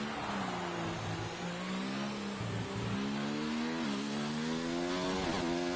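An F2 race car engine in the iRacing video game at full throttle at Suzuka, Japan, a loud, continuous high-revving whine whose pitch climbs through gear changes, with no talking.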